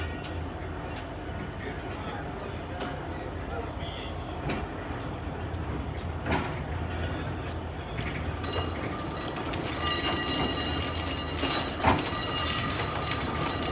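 The Malkwal Express passenger train rolls along in the early morning with rattling wagons and clanking mechanisms. A steady rumble builds slowly, broken by sharp metallic knocks.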